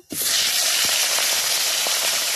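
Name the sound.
fish head frying in hot oil in a wok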